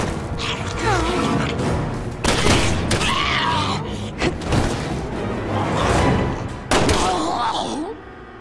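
Gunfire and combat effects from the Resident Evil 6 video game, with repeated loud bursts, thuds and mechanical clatter crowding the mix, some voice sounds among them.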